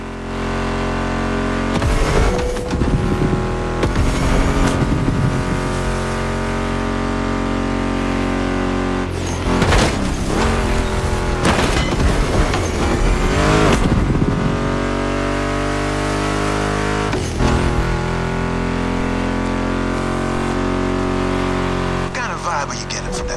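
Ford Mustang GT muscle car engine in the video game The Crew Motorfest, loud repeated revving and acceleration pulls with gear shifts, rising and falling up close with brief breaks between runs.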